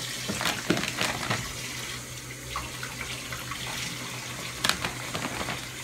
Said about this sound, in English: now we have to wash our lemons